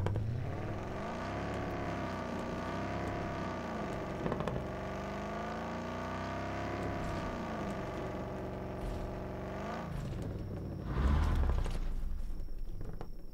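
Car engine in the video game Undawn, a continuous droning hum that rises and falls in pitch as it accelerates and eases off, with a louder burst near the end.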